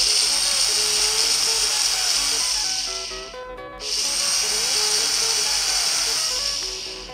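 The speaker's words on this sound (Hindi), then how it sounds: "यहाँ पर जो हाई आरपीएम की मोटर है इसका साउंड सुन सकते हो आप अभी।" A high-RPM electric motor whines loudly and steadily, fitted in a blower converted to run cordless. It cuts out briefly near the middle, then spins back up to the same sustained high-pitched hum.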